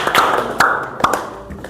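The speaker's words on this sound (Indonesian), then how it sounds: "Hebat, tepuk tangan buat mereka tuh." A few sharp, spaced claps ring out in a classroom, roughly three distinct hand strikes about half a second apart, close and fairly loud.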